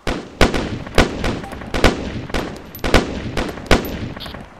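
Gunfire in a tactical shooter game: a rapid series of about a dozen loud, sharp shots in uneven bursts, each cracking sharply and decaying into a short echo; no voices.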